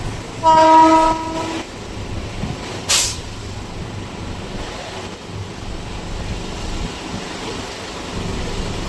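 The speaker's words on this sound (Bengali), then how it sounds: "আমাদের ট্রেন প্রবেশ করছে কল্যাণী স্টেশনে" A local train pulls into Kalyani station, sounding a loud horn blast early on, followed by a brief sharp burst and a continuous low rumble of the moving carriages, with no voices.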